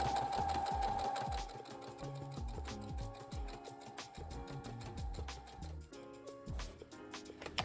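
A domestic sewing machine with a binder foot stitches bias binding onto fabric, its rapid mechanical clatter running near and steady, pausing briefly before resuming.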